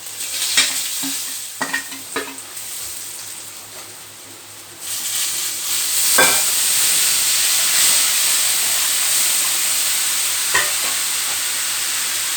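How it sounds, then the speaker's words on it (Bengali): Cumin seeds tempering in hot oil while making dudh potol with chhanar bora, starting with a few utensil taps and stirs, then breaking into a loud, sustained sizzle and hiss that holds steady to the end, nearby with no talk. "এইবারে আমি একটু জিরে ফোড়ন দেব।"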